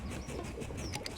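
Birds chirp and coo in the Super Mario Odyssey video game, light repeated calls and tweets over a steady game background, with a brief flutter near the end.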